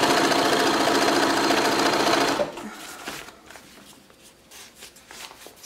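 A sewing machine stitches 1/4-inch elastic onto a cloth diaper in a loud, fast steady whir for a little over two seconds, then stops, leaving faint handling and rustling of fabric nearby.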